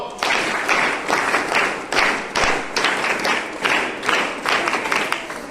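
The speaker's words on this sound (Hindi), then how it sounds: "एक बार स्काउट क्लैप गो।" An audience performs a scout clap, a drilled rhythmic pattern of sharp group claps in repeated bursts with brief pauses between, loud and close, at a National Mathematics Day event.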